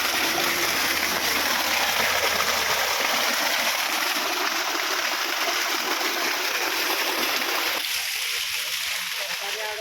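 Water gushing from the outlet of a solar-powered pump in the afternoon, a continuous loud rushing splash that stays steady throughout, with some voices faintly under it.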